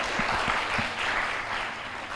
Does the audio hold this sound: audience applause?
yes